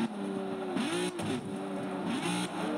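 Racing car engine in the Forza video game on Xbox One, revving up and down through gear changes with rising whine and brief drops, loud and close, several cars racing with no talking.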